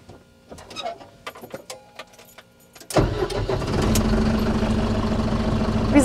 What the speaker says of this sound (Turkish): Bu da low diferansiyel kilidi. Hemen kısacık sesini dinleyelim.